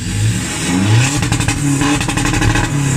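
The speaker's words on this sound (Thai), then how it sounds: "ดูควันเบิ้ลตัดแล้วลองวิ่งกันเอาเบิ้ลก่อนเบิ้ล" A Blue Power 1.9 pickup engine revs hard against the rev limiter, bouncing repeatedly off the cutoff with a rapid stuttering bark, loud and close with no voices.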